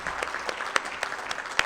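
Audience at a community foundation legacy luncheon applauding, steady dense clapping with a few sharper individual claps standing out, moderately loud and close, no voices over it.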